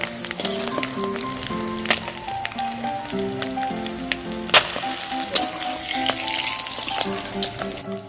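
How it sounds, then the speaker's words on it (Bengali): Eggs fry in hot oil with a constant crackling sizzle and scattered pops, close up, alongside faint tonal clinks, with no talking. "ডিমগুলো একটু কড়া করে ভেজে নেব।"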